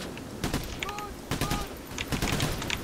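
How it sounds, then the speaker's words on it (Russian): Gunfire from the video game PayDay during a bridge heist on hard difficulty, with sharp bursts of shots in several clusters mixed with game noise and voices talking over the action. "Это сами стреляют жестко"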